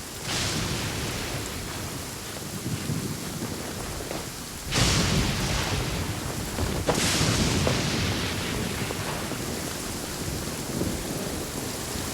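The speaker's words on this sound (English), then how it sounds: "Please stay indoors until the storm passes." A rainstorm in the video game Genshin Impact: steady rain pours throughout, and two sharp, loud thunder cracks split the air a couple of seconds apart, with no talking.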